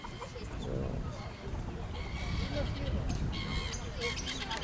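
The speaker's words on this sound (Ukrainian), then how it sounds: "Так, це папуги Мирослави" Pet parrots, budgerigars, rosellas and lovebirds, chirp and call in a chorus of high, bright notes, moderately close, while people talk over them.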